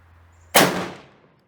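A single loud gunshot from an Indian 2A1 SMLE bolt-action rifle chambered in 7.62x51mm fired at an outdoor range, a sharp close crack followed by a decaying tail in otherwise quiet surroundings.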